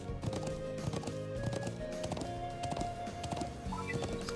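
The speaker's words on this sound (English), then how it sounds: "Let's go, little horsey." Horse hooves clip-clop in the game Trails of Cold Steel, a quick steady rhythm of trotting hoofbeats set over continuous game music, moderately loud and evenly paced for a few seconds.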